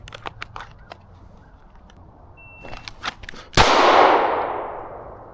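Gunfire on an outdoor shooting range during drills. Faint clicks and light metallic clangs lead up to one loud, close shot that rings out and fades slowly.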